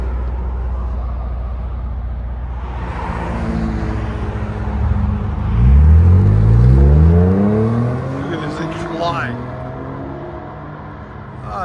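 A 2007 Honda Accord V6 exhaust revs up from a steady idle, climbing sharply in pitch to a loud peak midway, then dropping back and settling into a lower rumble, heard close and alone.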